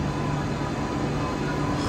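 Train at Warsaw railway station, a loud continuous broadband rumble with a steady low hum, close and unbroken throughout.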